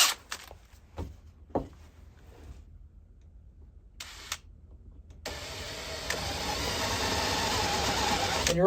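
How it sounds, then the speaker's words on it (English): A drill with a 3/8-inch Forstner bit boring a shallow recess into wood for a hat rack project, with a few short clicks and bursts before a steady motor whine that runs loudly to the end. "we're going to be cleaning out using a 3/8 Forstner bit."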